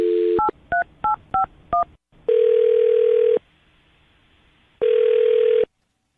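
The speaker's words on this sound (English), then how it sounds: "I'm going to dial his phone number right now" A telephone number is dialed by keypad, five quick touch-tone beeps in a row, followed by two long steady ringback tones separated by a pause, loud and clean with no voices.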